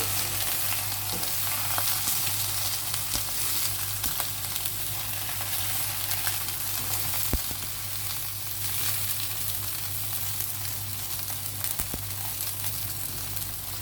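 Continuous loud sizzling and crackling of eggplant frying in a hot wok, with occasional light scrapes of stirring, close by and without speech.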